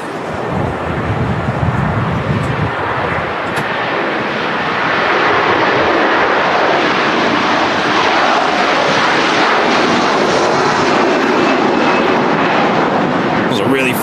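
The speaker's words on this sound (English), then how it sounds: "Here we go, Virgin Atlantic A330 now departing." Virgin Atlantic Airbus A330 jet departing Manchester Airport, a loud sustained engine roar that builds and holds under wind noise, with people talking over it.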